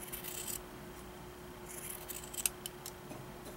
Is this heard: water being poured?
no